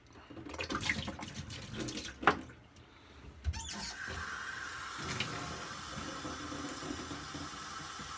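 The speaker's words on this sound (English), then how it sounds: "obviously if I tip it this way, the water is going to come out of the void, so I tip it backwards to drain the inside of it" Water pours and trickles out of a shave scuttle as it is tipped backwards to drain its inner void, a steady splashing flow that rises sharply midway and then runs on as a continuous close drain.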